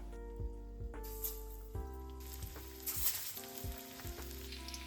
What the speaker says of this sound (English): I add the salmon to the vegetable oil.